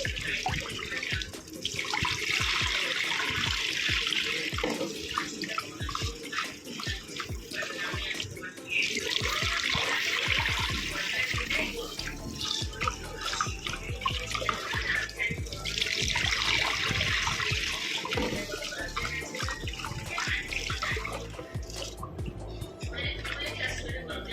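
A kitchen tap runs steadily into a sink as rice is washed, with splashing and sloshing throughout, close by, while someone talks over it.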